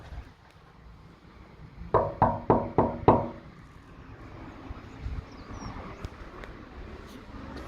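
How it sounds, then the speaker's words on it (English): Five loud, evenly spaced knocks on a door in a building, struck in quick succession after a quiet pause, followed by low background murmur. "I'll knock again."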